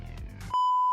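A loud steady 1 kHz censor beep on a livestream starts abruptly halfway through and holds alone to the end, right after a stretch of speech.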